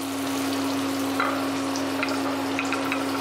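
Chopped garlic and onion fry in oil in a pan for a Bengali egg curry, giving a soft, steady sizzle with a few light crackles over a constant low hum.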